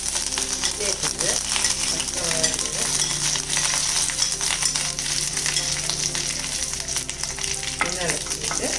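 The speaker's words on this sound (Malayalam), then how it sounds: "കുറച്ച് കടുക് ഇട്ട് കൊടുക്കാം. അപ്പം കടുകൊക്കെ പൊട്ടിക്കഴിഞ്ഞാൽ അതിലേക്ക് നമ്മൾ വേപ്പിലിട്ട് കൊടുക്കാം." Mustard seeds splutter and sizzle in hot coconut oil in a pan while an Onam sadya beetroot pachadi is being cooked. The frying crackles steadily with occasional stirring clinks, and a voice talks over it.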